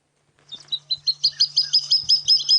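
A water thick-knee calls at night, a rising series of shrill, piping whistles that quicken and grow louder into a steady run of about a dozen notes, with a low steady hum underneath.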